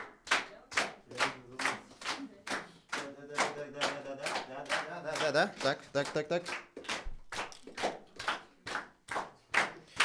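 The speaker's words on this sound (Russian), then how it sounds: "Давайте, бит небольшой ладошами." An audience claps a steady, quick rhythmic beat with their hands, loud and close. Voices talk and sing over the clapping in the middle stretch, and the beat carries on clearly before and after.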